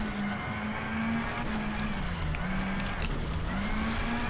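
Rally car in WRC: Rally Evolved braking hard and sliding onto snow at a junction, a steady droning engine note with faint tyre hiss and small scrapes, continuous and close throughout.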